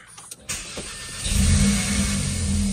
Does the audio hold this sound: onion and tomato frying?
no